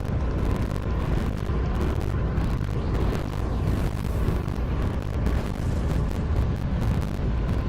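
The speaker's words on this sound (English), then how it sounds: "lost ship still set to self-destruct. We should exit explosion range before it blows." A starship's self-destruct blast in the Star Trek Online space game: a dense, sustained roaring rumble with crackling bursts that stays loud and unbroken throughout, with no voices.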